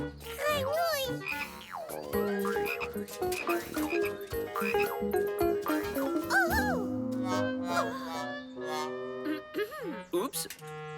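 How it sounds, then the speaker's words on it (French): A frog croaks in a cartoon frog hunt, with croaks mixed among children's voices, excited chatter and lively background music. "Grenouille!"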